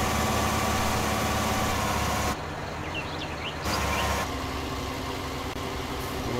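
Deutz tractor engine in Farming Simulator 19, a steady idling drone with low rumble running throughout, briefly dipping in level midway before settling back to a constant hum.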